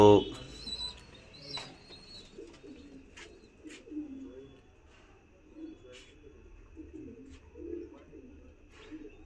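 Pigeons kept on a rooftop coo in soft, repeated low murmurs, moderately near, with an intermittent faint chirp and a brief thump at the start.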